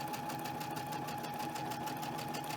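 A home sewing machine stitches steadily with a running bobbin, giving a fast, even mechanical whir and rapid needle ticking, close and continuous throughout with no talking.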